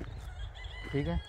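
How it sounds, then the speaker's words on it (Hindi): Rooster crows rise briefly in the background on an outdoor walk near water, partly under a short spoken exchange. "पीछे मुर्गों वगैरह की आवाज़ आ रही है"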